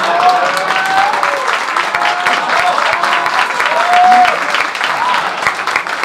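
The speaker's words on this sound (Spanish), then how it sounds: "con ese aplauso les doy la bienvenida a la prestigiosa sección" A studio audience on a Spanish-language comedy news show claps in sustained, dense applause, steady and loud throughout, with a voice faintly talking underneath.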